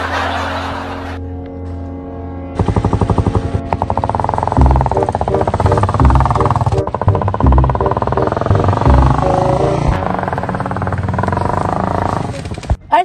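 Motorcycle engine running with a pulsing, uneven putter close by, loud and sustained with rhythmic revving, while people talk and laugh over it.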